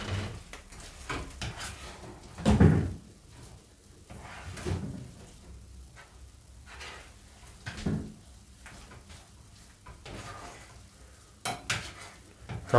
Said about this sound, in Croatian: Kako bi se to dobro pržilo na ulju.